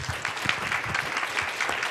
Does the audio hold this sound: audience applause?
yes